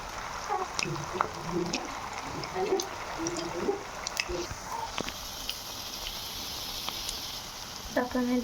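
Suji and potato snacks fry in hot oil with a soft, steady sizzle and scattered crackles and pops, fairly quiet and close, with a few faint voice-like murmurs early on.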